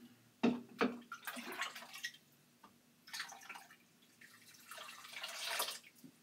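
Tap water running into a sink while a cat is rinsed, with splashing and dripping in bursts, a few sharp knocks near the start, moderate and close.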